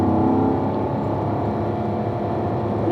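A race car on a track pulls hard in fourth gear, its engine a steady loud droning roar heard from inside, holding an even pitch without talk.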